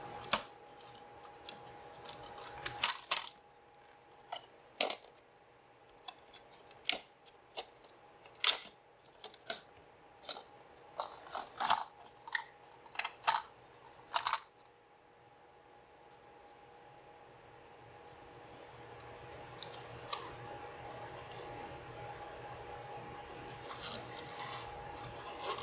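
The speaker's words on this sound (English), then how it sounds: "we can disconnect the 26-pin data cable and remove the floppy drive" The floppy drive is removed from a Toshiba T1000 laptop: faint, scattered clicks and scrapes of plastic parts and a data cable being handled, with a soft electrical hum throughout and a quieter rubbing stretch toward the end.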